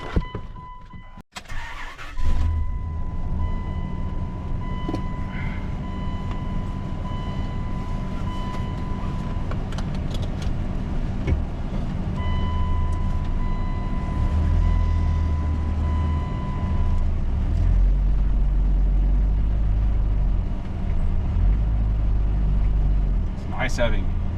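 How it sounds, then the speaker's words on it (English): A 2002 Dodge 2500 pickup with an 8.0L V10 drives along after steering repairs, its steady low engine rumble and road noise continuous and close throughout, with a brief startup burst at the beginning and no speech over it. "We'll take the truck for a spin."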